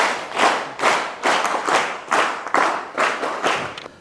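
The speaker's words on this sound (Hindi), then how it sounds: "एक बार जोरदार तालियां सत्यन जी के लिए।" An audience at a government senior secondary school in Narag, Sirmaur, gives a guest loud, rhythmic clapping: about eight strong, evenly spaced bursts of hands striking together in unison over four seconds.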